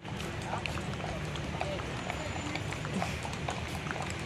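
A horse runs at a Baguio City tourist spot, its hooves giving a steady patter of clip-clops beneath continuous outdoor crowd murmur and scattered voices.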